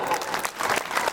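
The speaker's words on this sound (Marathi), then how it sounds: "टाळ्या." Brief, even applause from an audience at a gathering fills the whole moment with a busy crackle of many hands clapping, with a faint crowd murmur behind it.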